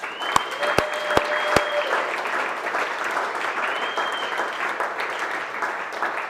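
Audience applause at an October all-team company meeting, with a steady wash of clapping, a few sharp claps and whoops standing out near the start, continuing evenly through the whole stretch.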